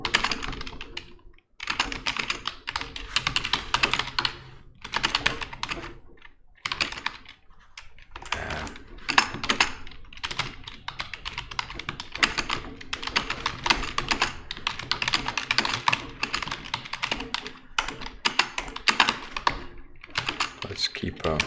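Steady typing on a computer keyboard during Python/Django web development, with dense bursts of close key clatter broken by short pauses, and a voice speaking at times.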